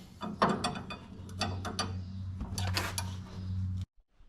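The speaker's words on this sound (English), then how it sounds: "just tightening up this double nut situation" Tools tighten a double nut on a Ford Courier pickup's new shock absorber, producing a close series of irregular metallic clicks, ratcheting and clanks that end abruptly.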